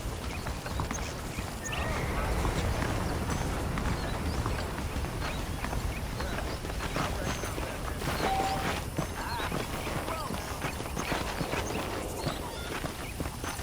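Steady clip-clop of saddled horses' hooves walking at an even pace in Red Dead Redemption, with game-style ambience and a bit of background chatter mixed in.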